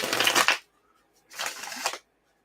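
Two quick riffle shuffles of a deck of cards, each a crisp, close, fluttering burst lasting about half a second, separated by a short silent pause.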